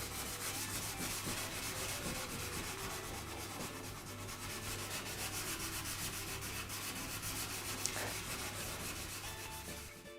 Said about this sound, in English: I've made a wee sanding block. It's got 400 wet or dry on it.